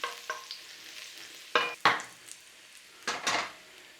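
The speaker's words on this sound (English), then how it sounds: "Little stir on the garlic." Garlic frying in a pan for egg fried rice is stirred with a utensil, giving a few scraping, clattering strokes against the pan over a faint sizzle, close and fairly quiet.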